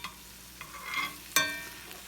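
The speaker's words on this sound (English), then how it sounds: "I'm just sauteing these onions slightly, just enough to make them like translucent" Onions sauteing in a pan give a quiet, steady sizzle, broken by a few scraping stirs and one sharper clatter near the middle. No one speaks.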